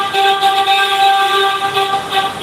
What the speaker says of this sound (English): They love honking here.